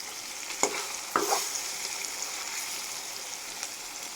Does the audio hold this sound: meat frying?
yes